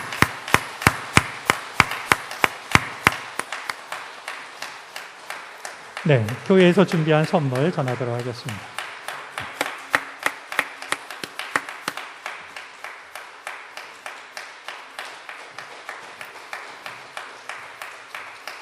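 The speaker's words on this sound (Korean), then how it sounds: "우리 인사할 때 여러분들 마음을 담아서 큰 축복의 박수를 보내주시기 바랍니다." A church congregation claps for a newly ordained pastor as he greets them, a long run of sharp, fairly loud handclaps that continues steadily, with a brief stretch of speech in the middle.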